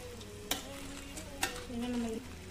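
Bhel puri ingredients such as puffed rice, raw mango, onion, chaat masala and sauce are tossed in a bowl, giving a continuous soft crunchy rustle broken by two sharper spoon knocks. The mixing is close but quiet, with no talking.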